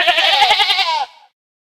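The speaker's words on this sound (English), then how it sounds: "Sheep." A single loud, close sheep bleat wavers for about a second in a quavering rhythm, then fades quickly to silence.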